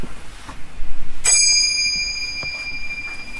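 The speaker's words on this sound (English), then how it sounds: "That was a bell." A small hand bell is struck once indoors, giving a bright, clear ring that decays slowly, with faint room noise around it.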